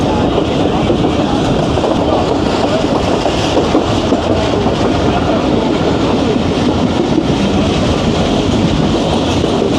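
Jaffar Express rolling at speed through Sahaba station without stopping, a dense continuous roar of wheels and carriage rumble with faint clickety-clack, loud and close from on board, steady throughout.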